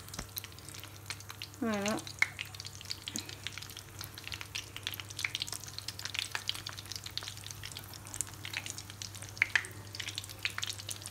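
Small bourek pastry parcels with kebab filling sizzle steadily in hot oil, a continuous crackling fry with a short bubbling burst as they are placed, while a voice talks briefly.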